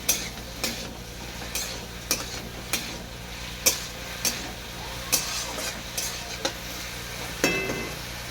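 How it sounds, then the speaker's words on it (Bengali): Ginger-garlic paste fries in a pan under a steady sizzle while a spoon scrapes and stirs it, giving regular sharp taps and scrapes roughly every half second. "আদা রসুন বাটাটাকে সাথে এইভাবে ভেজে নেবো"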